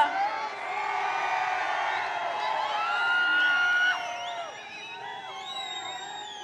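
A political rally crowd cheers and whoops at a speech, a mass of overlapping voices with rising shouts and wavering calls, loud at first and easing off toward the end.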